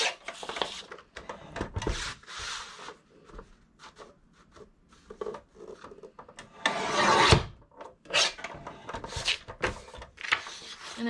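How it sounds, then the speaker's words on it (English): A guillotine paper cutter slices thermal cinch material with repeated scraping, rubbing and rasping strokes, one louder crunching cut near the middle and several shorter bursts around it, close and fairly quiet, with no talking. "We're gonna cut that with our guillotine also."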